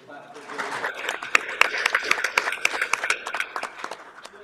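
Audience applause at a village board meeting, a brisk patter of many hands clapping steadily for several seconds in an indoor room, fairly close and without speech.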